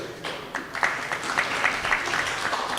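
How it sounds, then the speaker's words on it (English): A seated audience at a university forum gives a brief round of applause, sparse and uneven claps at moderate distance that build slightly over a few seconds with no one speaking. "one big round of applause for the deans and registrars who finished right on time"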